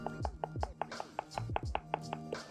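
Rapid hard tapping on a solid object, a quick series of sharp clicks and knocks close by, with a faint voice briefly in the background.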